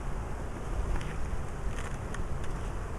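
A dense, steady hum of many honey bees buzzing close by, a continuous droning swarm with no voices.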